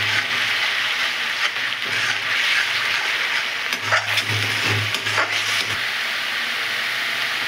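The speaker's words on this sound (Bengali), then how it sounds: "এবার আমি আদা রসুন পেস্ট দিচ্ছি" Ginger garlic paste sizzling and frying in a pan for a Bengali spicy fish curry, a steady hiss with scraping stirs of a spoon across the pan, close and without talk.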